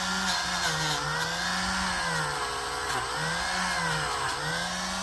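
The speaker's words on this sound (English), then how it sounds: "we'll take the Scotch-Brite wheel to it" A Scotch-Brite wheel spins steadily against a diecast model car being stripped of paint, a constant close whine with faint wavering pitch as the piece is pressed and moved, with no talking.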